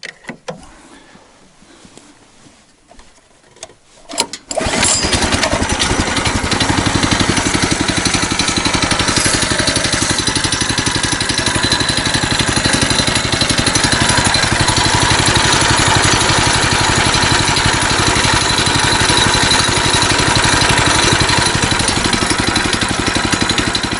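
A motor tricycle, serviced out in the field, starts up after a few quiet knocks and then idles loudly and steadily close by, a continuous mechanical engine drone with a fine rapid rattle.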